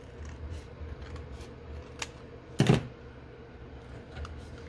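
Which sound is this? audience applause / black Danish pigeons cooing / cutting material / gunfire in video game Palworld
cutting material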